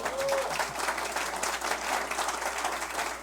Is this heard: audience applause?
yes